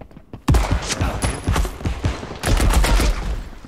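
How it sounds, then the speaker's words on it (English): Rapid gunfire in a first-person shooter, dense bursts of close, loud shots cracking in quick succession after a brief quiet start, continuing with a few short pauses. "I'm going after the guy shooting you"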